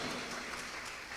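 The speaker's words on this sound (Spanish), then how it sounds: "Un aplauso para ustedes." A church congregation claps, a brief, faint, diffuse patter of applause heard from a distance.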